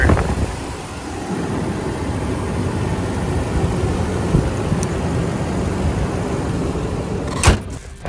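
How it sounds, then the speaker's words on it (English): A 2001 Lexus LX470 with its engine running, a steady low idle rumble heard from nearby, with a brief click or knock near the end and no voices. "Motor sounds great."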